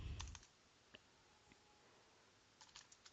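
Keys on a computer keyboard tap in a few sparse, quiet clusters, with a louder thump at the start and scattered single clicks after, close to the microphone in an otherwise hushed room.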